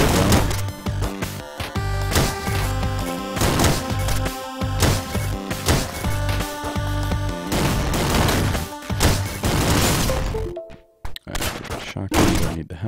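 Rapid shotgun blasts from the video game Downwell fire in dense, punchy volleys over chiptune music, loud and continuous before a brief drop and a few final shots.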